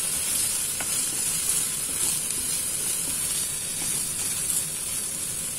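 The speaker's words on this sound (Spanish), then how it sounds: "aquí los guisantes ya están como están, ya se están dorando un poco" Peas frying in a pan as they start to brown, a steady close sizzle and hiss running unbroken throughout with faint crackles and no voices.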